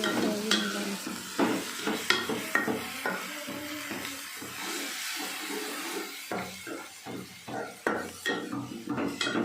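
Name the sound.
frying onions with ginger garlic paste in pan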